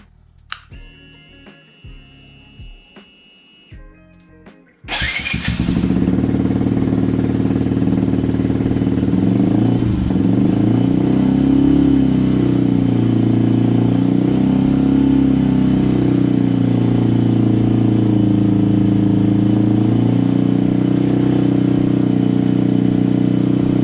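A modified engine held steady at 4,000 RPM on a test run, starting abruptly after a few seconds of quiet and then droning loud and even without letup.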